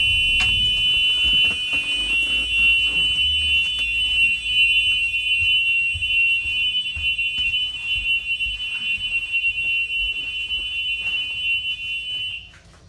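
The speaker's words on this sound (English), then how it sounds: "go back and turn off the No Child Left Behind alarm" A school bus child check alarm gives a loud, steady high-pitched electronic tone continuously for several seconds, then cuts off abruptly.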